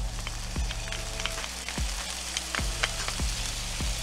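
Garlic sizzles steadily in a hot pan, a dense frying hiss that runs the whole time, with a low scrape of stirring repeating about every second.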